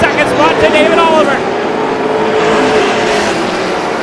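Stock cars racing at Star Speedway roar past loudly with a rising, revving whine that fades into a continuous crowd-and-engine wash, while a commentator talks over it.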